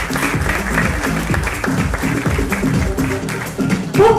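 A pageant crowd gives loud, dense applause for a contestant in a cultural ambassador election in Villa Angela, with sustained clapping throughout and a brief voice near the end.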